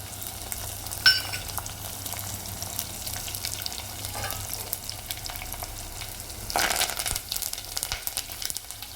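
Tempering spices and dried red chilies fry in hot oil for a lentil dish with tamarind leaves, giving a soft continuous sizzle with a few light clinks and a louder crackling burst near the end.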